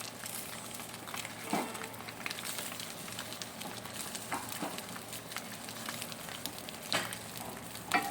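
Mourala fish wrapped in banana leaf sizzling on a low flame, a quiet steady frying crackle with occasional soft pops, no talking.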